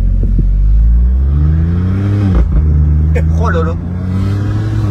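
A car's engine revs up and holds with rising and falling harmonic tones, loud and close, while a voice exclaims over it.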